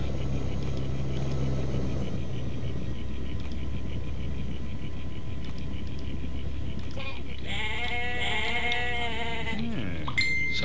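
Sheep in a Jurassic Park Operation Genesis park bleat in a few wavering, nasal calls near the end, over a steady low rumble of ambient game noise.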